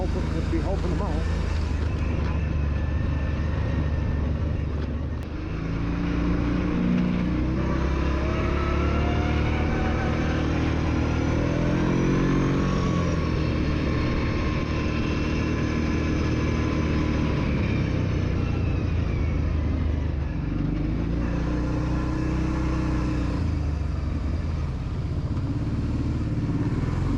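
An ATV engine drones steadily through an outdoor trail ride in Crowsnest Pass, Alberta, its loud, continuous rumble shifting in pitch as the throttle eases and picks up.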